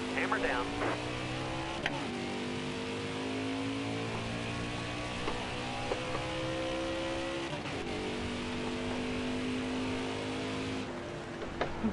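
Race car in an Xfinity-series racing video game accelerating hard out of the pits, its engine rising steadily in pitch with layered tones under ongoing talk.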